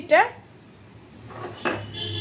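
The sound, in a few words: metal kadai handled while making besan laddu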